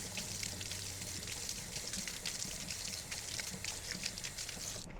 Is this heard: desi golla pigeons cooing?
no